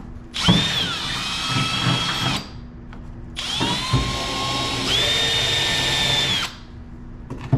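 Power drill boring holes in the steel bed of a Ram 2500 pickup for a gooseneck hitch, two long whining bursts with rising and falling pitch, close and loud, separated by a brief pause.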